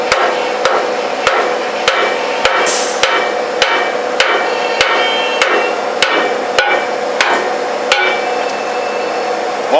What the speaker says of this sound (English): So sometimes you could just hit it with a hammer, get it unstick.